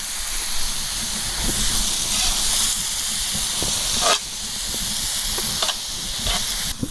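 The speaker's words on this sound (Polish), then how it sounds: "Pięknie wszystko się smaży." Steady hissing sizzle of chicken gyros meat frying with thyme over an open campfire, with faint crackles and occasional sharp pops.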